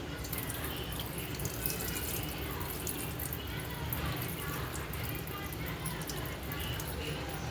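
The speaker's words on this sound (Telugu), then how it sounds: "మనం ముందుగా కడిగి పెట్టుకున్న ఈ రైస్ పెసరపప్పునైతే వాటర్ వంపేసుకుని" Water pouring and trickling steadily, drained off washed rice and moong dal, like liquid being tipped out of a pot, continuous and close.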